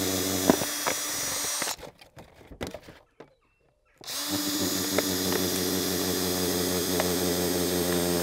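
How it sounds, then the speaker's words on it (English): A power drill widens a hole in a plastic bottle, a steady close whine that cuts off for about two seconds in the middle and then starts up again at full level. "I'm now just going to widen that hole by using the drill."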